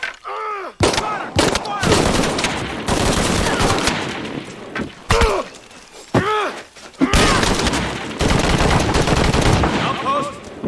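Gunfire from the Shadow of the Tomb Raider video game, loud bursts of rapid automatic shots and single cracks filling most of the stretch, with brief gaps and shouted game voices mixed in.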